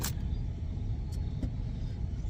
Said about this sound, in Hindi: बहुत ट्रैफिक हो रहा है